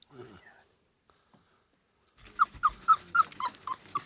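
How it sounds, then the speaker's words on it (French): An Azawakh bitch with her puppies, giving a quick run of six or seven close, rhythmic yelps or whimpers after near silence, with soft growly undertones and faint rustling. "Une femelle Azawak rejoint le vieux chef avec ses chiots"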